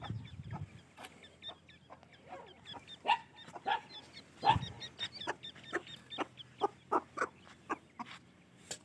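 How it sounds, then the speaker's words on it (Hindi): A hen calls her chicks with a run of soft clucks, mixed with short, sharp chirps from the chicks, close by and in an irregular rhythm, with a low voice briefly at the start. "अब मुर्गी इनको बुला रही है"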